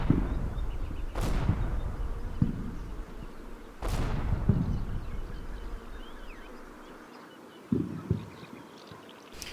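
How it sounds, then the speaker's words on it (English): Heavy tank cannon fire in the Combat Mission: Battle for Normandy game pounds a hedgerow, two sharp booming blasts with long rumbling decays and a later softer thud, over faint ambient battlefield noise. "The tanks continue to pound the absolute hell out of the hedge."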